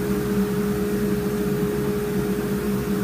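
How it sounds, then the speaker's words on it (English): A wood lathe spins at high speed turning a piece of yew, giving a steady, loud motor hum with a constant pitched whine and broadband rushing noise, unchanging throughout and without speech. "I got the lathe set to high speed"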